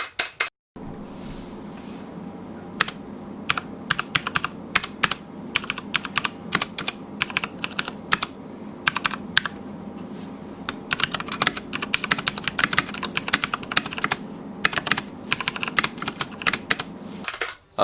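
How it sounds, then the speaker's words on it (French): A Vortex 60% mechanical keyboard with Cherry MX Brown switches is typed on in a continuous stream of close, clacky keystrokes with irregular rhythm and occasional brief pauses. "Les touches c'est ce que je préfère chez les claviers mécaniques"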